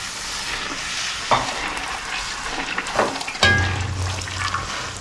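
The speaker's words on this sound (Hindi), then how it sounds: "आप जब तक इसको ऑयल में प्रेस नहीं करेंगे ये नहीं फूलेगा" Gol gappay puris frying in hot oil and pressed down to puff, a steady close sizzle broken by sharp splashing bursts as dough drops in and gets pushed under, with a deeper bubbling surge near the end.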